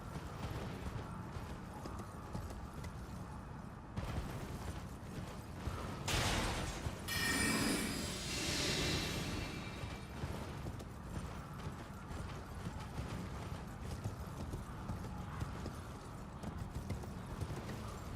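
Horse hooves in the video game Elden Ring while riding, a steady clip-clop gait running throughout under game ambience and effects, with a brief louder whoosh midway.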